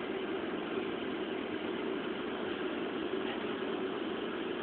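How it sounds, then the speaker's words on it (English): An electric ventilation fan with an exterior vent runs at night outside a house, giving a steady, unbroken mid-level drone that holds the same even level throughout with no voices. "Some ventilation fan is what it sounds like."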